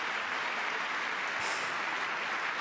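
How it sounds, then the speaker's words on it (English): An audience claps steadily throughout President Trump's address to Congress, a dense, even wash of applause from a large crowd. "we're clapping. We should be clapping."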